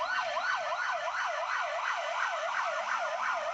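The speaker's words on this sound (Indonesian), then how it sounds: "dari atas ya turun itu 2 buah ambulan untuk menuju Kota Padang" An ambulance siren on a road near Padang, Indonesia, wails steadily in a rising and falling pattern, loud and close, with faint road noise underneath.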